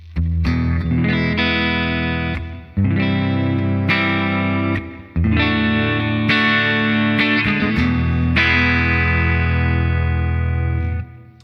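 A PRS SE Hollowbody II electric guitar played with clean tones through an Ampero processor, picked chords and notes ringing loud and sustained in several phrases with short pauses, carrying a chorus-like shimmer and reverb.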